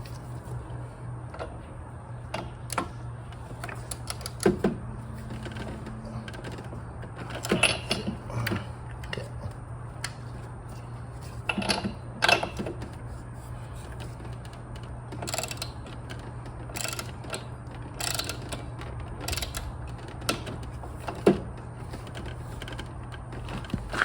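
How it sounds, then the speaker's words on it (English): A torque wrench tightens the blade bolt on a Honda lawn mower to 14 foot-pounds, giving scattered sharp mechanical clicks and ratcheting taps over a steady low hum, close by and fairly quiet. "Get on this side with the wrench. I'm listening for that click."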